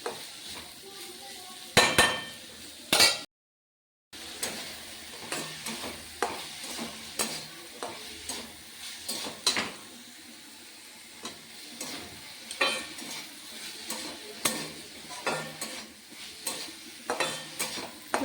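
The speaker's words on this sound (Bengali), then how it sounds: "পেঁয়াজ, আদা, তারপর মিষ্টি আলু, ক্যাপসিকাম, লঙ্কা কুচি এগুলো দিয়ে ভাজা ভাজা করছি।" Onion, ginger, sweet potato, capsicum and chopped chilli fry in a pan with a low sizzle, overlaid by frequent spatula scrapes and metallic clinks against the pan, with one brief dropout.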